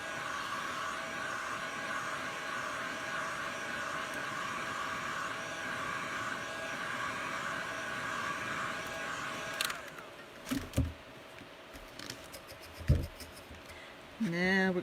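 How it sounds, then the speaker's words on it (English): A heat gun blows a steady, even whoosh over a tie dye tumbler for about ten seconds, then cuts off, leaving scattered handling clicks and knocks before the gun briefly starts up again at the end. "hit it with a heat gun again"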